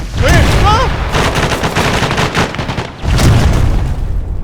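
Explosion and rapid gunfire in a military video game, a dense barrage of loud shots and blasts with whistling projectiles early on, continuing almost without pause.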